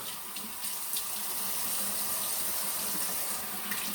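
Hot water pours steadily from a bathroom sink tap, a continuous close hiss and splash filling the whole few seconds with no voices over it.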